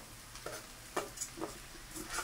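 Mushrooms tipped into a cooking pot for a mushroom soup and stirred, giving soft scattered knocks and a faint sizzle in a quiet kitchen, with no talk.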